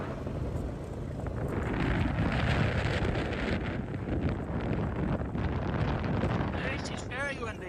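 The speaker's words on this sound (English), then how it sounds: "It's very windy over here." Strong wind roars across a farm paddock with lambs, a loud continuous buffeting rush against the microphone that stays heavy throughout, ending with a brief higher warbling tone.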